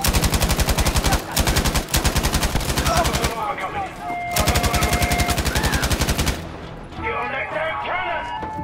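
Rapid automatic gunfire rattles loudly in long sustained bursts in the video game Battlefield V, with brief pauses between them and game voices and effects in the gaps.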